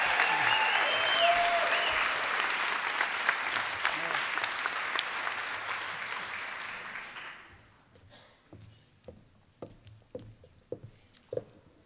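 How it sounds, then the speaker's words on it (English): An audience at a school convocation applauds loudly and densely for several seconds, then the clapping thins out to a few scattered claps, with some talk from the crowd mixed in. "show your appreciation with your applause."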